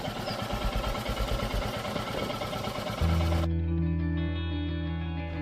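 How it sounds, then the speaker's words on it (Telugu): A Royal Enfield Classic 350 Signals motorcycle engine starts and settles into a steady, low, throbbing idle. A dense, noisy stretch precedes the start. "అండ్ ఇక్కడ మనకి ఇప్పుడు ఇంజిన్ ఆన్ చేస్తున్నాను"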